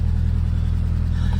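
Turbocharged Honda Civic engine idles close by, a loud, steady low rumble with an even pulsing throb and no voices.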